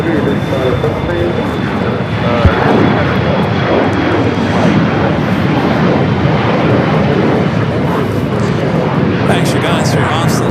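An airliner takes off from runway 25 right at LAX, a loud, steady broadband engine roar filling the whole stretch with little change, as if close by, while voices are faintly present.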